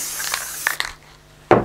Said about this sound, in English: Another light application of the spray tack